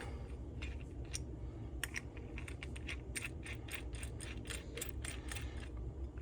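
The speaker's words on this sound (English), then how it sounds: "And you just tighten up and it draws the bearing in." A wrench ratchets a nut down a bolt with washers to draw a bearing into a McCulloch leaf blower during a bottom-end rebuild, a steady close run of quick metallic clicks over a constant background hum.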